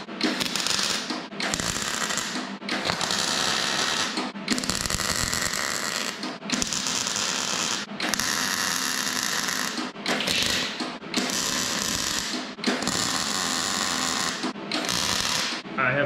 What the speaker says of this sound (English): I have welded rust to rust.